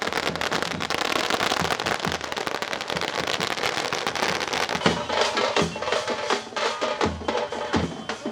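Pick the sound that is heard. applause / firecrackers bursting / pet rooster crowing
firecrackers bursting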